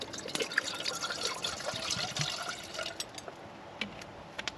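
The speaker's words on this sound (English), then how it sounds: "So I'm gonna get my kettle, get some water so we can have some coffee." Water poured into a percolator kettle for coffee at an outdoor bushcraft cooking site, a steady splashing trickle with small drips, close and moderately loud, easing off near the end.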